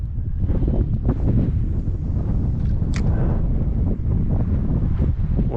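Strong wind buffets the microphone on open water while kayak fishing near Crystal River on Florida's Nature Coast, a loud continuous roar with gusting swells and faint water sounds beneath.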